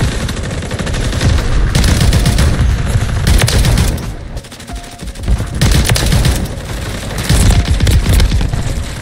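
Sustained automatic gunfire from a Call of Duty MW3 match with a DTIR 30-06 rifle in play, loud and dense throughout, with bursts and brief lulls and no talk.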